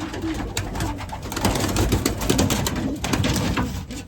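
Racing pigeons coo steadily at close range in a loft, several soft, throaty coos overlapping with wing rustles and shuffling, loud and continuous with no talking.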